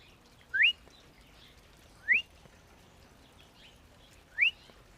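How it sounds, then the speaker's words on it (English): House finch contact calls in a backyard: three short, clear rising chirps spaced about one and a half to two seconds apart, moderately near, against a faint background hiss. "That of the house finch, very classic call. It's a contact call."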